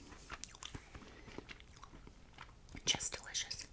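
Someone eats flaky chicken pot pie pastry up close, with soft chewing and mouth sounds, then a louder crunchy bite near the end.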